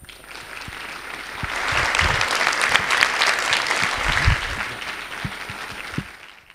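An audience applauds to welcome a speaker onto a TED-style stage, steady dense clapping that swells in the middle and tapers toward the end, with no voices over it.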